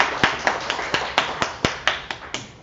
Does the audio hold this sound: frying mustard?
no